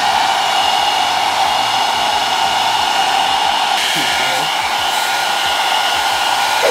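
A blow dryer roars steadily and loudly throughout, a close, continuous whooshing hum with no breaks.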